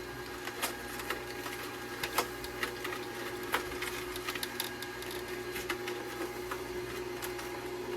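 A Canoly C16 cold press juicer grinds unpeeled carrots, giving a steady mechanical drone with irregular cracks and snaps as the pieces break up, close by and without any talking.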